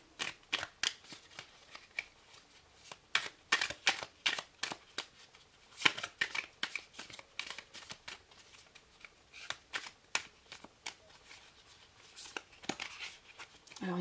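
Tarot cards being shuffled by hand, with quick rustling, flicking bursts repeating in irregular clusters, close and fairly quiet with no talk over them.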